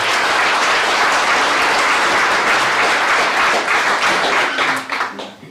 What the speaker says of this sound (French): Et je pense qu'elle mérite beaucoup d'applaudissements.